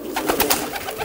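Pigeons raised for pigeon racing coo close by in a quick run of soft, throaty pulses, with no talking.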